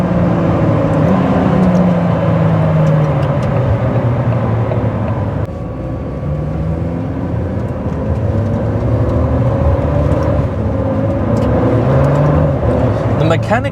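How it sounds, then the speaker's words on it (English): A Ford GT's engine roars steadily while driving, loud and continuous with shifting pitch as it pulls, mechanical intake and cylinder noise filling the cabin, with a brief dip midway before the drone resumes. "The mechanical noises in this car are insane."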